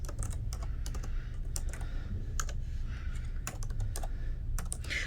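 Rapid typing on a 15.6-inch EVOO ultra-thin laptop keyboard, irregular key clicks close up over a low steady hum.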